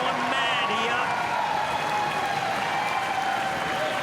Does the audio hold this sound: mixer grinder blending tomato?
no